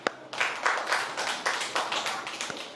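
A classroom of children claps together at a teacher's request, a quick run of soft, slightly ragged rhythmic claps close by.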